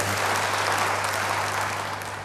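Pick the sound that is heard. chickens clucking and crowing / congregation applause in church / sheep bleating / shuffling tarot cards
congregation applause in church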